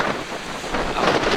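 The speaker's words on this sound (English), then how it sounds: "The sea is really rough" Strong wind buffets the microphone over a rough, stormy sea, with a constant loud roar of wind and surging waves filling the brief moment.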